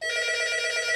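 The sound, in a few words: telephone ringing through Yeastar TA100 ATA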